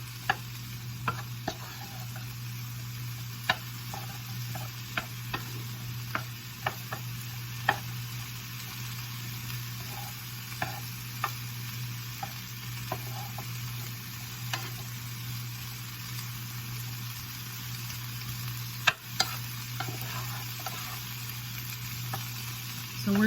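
A Thai chicken stir-fry with asparagus and peas sizzles steadily in a pan, a constant frying hiss dotted with light ticks and clicks, with no talking over it.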